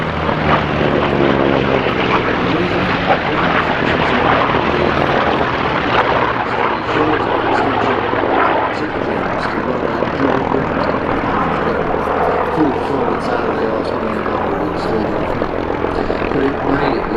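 American fighter aircraft with Pratt & Whitney radial engines at an airshow, a loud continuous propeller roar with a steady droning tone that holds throughout, rising and swelling slightly as the planes pass.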